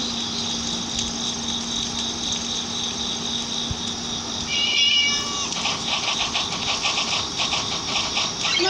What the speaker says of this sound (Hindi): आगे बिल्ली है